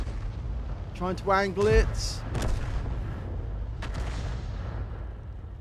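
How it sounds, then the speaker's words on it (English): Tank gun firing and a heavy shell impact explosion in a tank combat video game, booming bursts under a man's speech with a rumbling tail. "quite a big impact explosion there"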